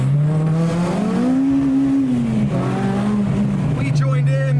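A Honda Civic Type-R with a swapped K24 engine revs up and holds near the limiter, loud and close. Its tone rises and wavers, and other cars are nearby as it leaves a meet.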